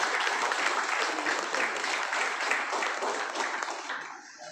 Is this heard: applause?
yes